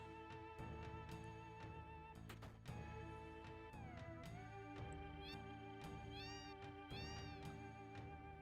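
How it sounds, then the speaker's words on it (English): Synthesized meows from a house full of cats in the Final Fantasy VII video game, repeated cat calls with rising and falling pitch over steady game music, loud and continuous with no talking. "just a house full of cats"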